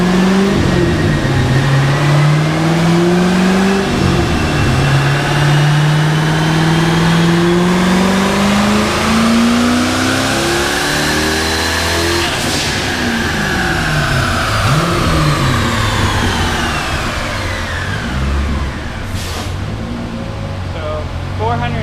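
A car engine on a dyno revs hard through a power run on medium boost with no load, climbing loud and near with a sustained rising then falling roar over nearly twenty seconds.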